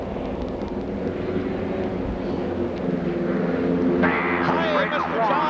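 Vintage biplanes from the 1930s era fly at the 1994 Sussex airshow, a steady distant engine drone running throughout beneath a commentator's voice over a loudspeaker.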